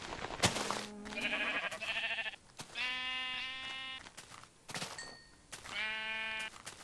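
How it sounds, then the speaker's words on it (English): Minecraft sheep bleating in a video game, several loud, wavering harmonic bleats in separate bursts across the stretch, clear and close with no talk over them. "Give me your wool, sheep."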